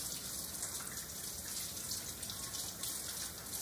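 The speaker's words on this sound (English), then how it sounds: "go ahead, turn your water on, stick your mitts underneath and get them nice and moist" Tap water runs steadily over hands being washed at a sink, a continuous broadband splashing hiss with no talk.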